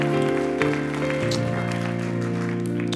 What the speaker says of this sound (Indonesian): Yang percaya berikan tepuk tangan dong.